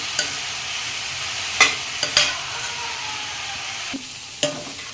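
Cabbage curry frying in a pan is stirred with a few sharp scraping clicks over a steady soft sizzle, close and alone.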